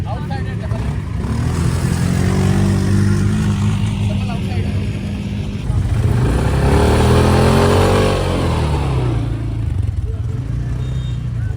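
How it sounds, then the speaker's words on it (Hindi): A motorbike engine idles and revs on desert sand during a safari ride, rising to a louder rev in the middle, with people talking over it throughout. "ये है हमारी बाइक।"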